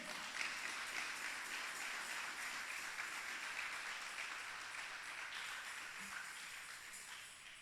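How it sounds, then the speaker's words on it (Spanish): Faint, distant, continuous clapping from a church congregation praising the King during a sermon, steady throughout with no clear voices. "dele palmas al Rey"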